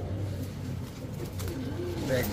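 Pigeons kept for sale at a pigeon dealer's give a low, steady murmuring coo that runs throughout, close by, with faint voices in the background.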